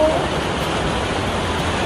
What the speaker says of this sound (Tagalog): Hindi kami makapag-vlog kasi ang lakas ng ulan eh.